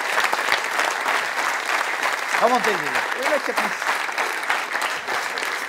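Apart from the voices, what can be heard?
audience applause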